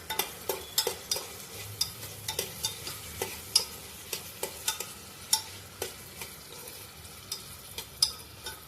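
Finely chopped, washed potato stirred into softened frying onion and tomato for masale bhat. A spoon scrapes the pan in steady, evenly spaced strokes over a low, continuous sizzle, close and moderately loud, with no talking.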